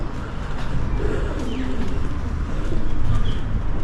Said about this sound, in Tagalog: meron mga kalapati sa loob